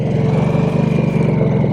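Harley-Davidson Nightster motorcycle engine pulling hard under acceleration, a loud, steady, close throaty drone with a faint rising whine and no talking.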